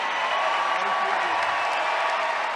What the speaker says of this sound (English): let's have a regal cheer for Lawrence Sarley